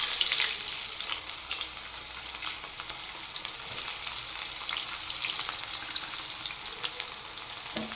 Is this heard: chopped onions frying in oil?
yes